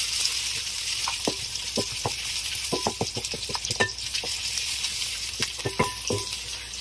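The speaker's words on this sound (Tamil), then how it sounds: "எண்ணெய் சூடு வந்துருச்சு, வெங்காயம் சேர்த்துக்கலாம்" Small shallots or pearl onions sizzle and crackle in hot oil, a steady bright hiss broken by scattered sharp pops and spatters throughout, close and fairly loud with no voices.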